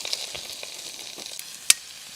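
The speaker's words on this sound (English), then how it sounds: "sizzle because of the water" Carrots and broccoli for a yellow Thai curry sizzle in oil over a campfire, a soft, close frying hiss with scattered crackles and one sharp pop near the end, no voices.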